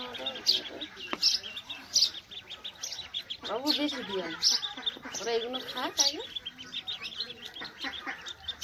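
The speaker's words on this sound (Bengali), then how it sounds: "এই যে হাঁসের বাচ্চা উঠেছে, এগুলো পাতি হাঁসের বাচ্চা।" Four-day-old domestic ducklings chirp with rapid, high, repeated peeps, close and fairly loud, in a village setting. People talk over and between the calls.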